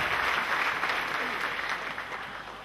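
A church congregation at a prophetic sermon in Cameroon breaks into loud, sustained applause that fills the hall, with crowd voices blended under the clapping.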